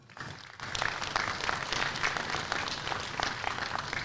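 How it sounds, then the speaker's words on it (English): Crowd applause at a Market Barrows livestock sale, steady clapping from many hands that rises after a brief quieter start and carries on evenly throughout. "So give them a round of applause, please."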